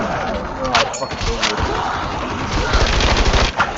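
An MG42 machine gun fires in a zombies video game with rapid, dense bursts of gunfire throughout, loud and close, while voices talk over it.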